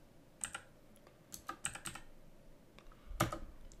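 Numbers being typed on a computer keyboard, a few scattered soft key taps with short pauses between them, close but quiet.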